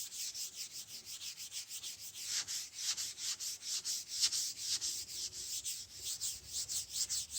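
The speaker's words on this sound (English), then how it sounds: "I'm seal sanding the paint at the same time to make it smooth" Hand sanding over stained, painted wood to give it a smooth weathered finish, producing quick rhythmic scratchy strokes in a steady back-and-forth pattern, close and soft with no voices.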